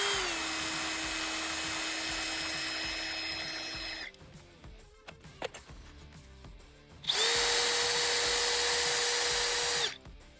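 Parkside PDSSAP 20-Li cordless impact driver running free with a high whine, two bursts of a few seconds each, loud and close, separated by a quieter gap with small handling clicks.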